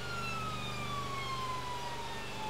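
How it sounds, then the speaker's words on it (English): A wailing ambulance siren on a Mercedes Sprinter sweeps steadily downward in pitch over a constant low engine rumble, loud and close, with no voices. "Gonna get a bit early air horn just to break up my sirens here"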